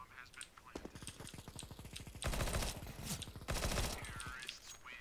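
Rapid video game gunfire bursts from a first-person shooter, loud and close, with two heavy sustained volleys standing out among quicker rattling shots, while faint voices murmur underneath.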